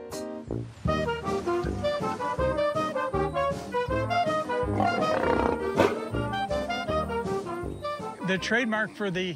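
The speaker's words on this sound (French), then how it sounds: "Le symbole des studios MGM, c'est ce lion rugissant" A lion, the MGM studio mascot, roars repeatedly with deep rumbling bursts, loud and close, over a full musical backdrop.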